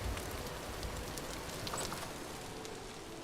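Steady rain in Vintage Story, a dense, even hiss with faint scattered drop taps, holding at a constant low level throughout with no voices.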